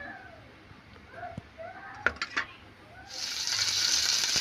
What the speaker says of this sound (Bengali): তেল দিয়ে সয়াবিন দিয়েছি, পেঁয়াজ লঙ্কা কাঁচা লঙ্কা